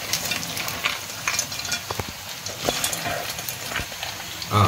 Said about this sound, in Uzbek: Suv quymasdan oldin makaronni solib qovurib olamiz.